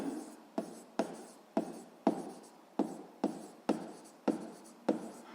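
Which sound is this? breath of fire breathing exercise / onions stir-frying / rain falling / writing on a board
writing on a board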